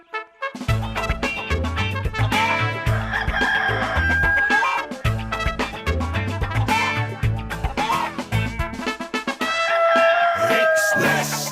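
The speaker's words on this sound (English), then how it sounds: "And here's just the cockerel to help organise a tidy up." A cockerel crows loudly over a busy, bright musical backing on a cartoon farm, the call rising above steady music throughout.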